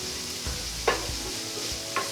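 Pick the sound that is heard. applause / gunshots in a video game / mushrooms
mushrooms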